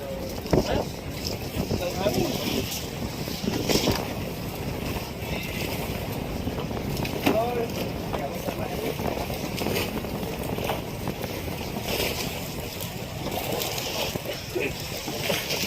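Rough sea during Typhoon Kabayan off Surigao, a constant roar of wind and surging waves with splashing, loud and unbroken, while someone talks over it.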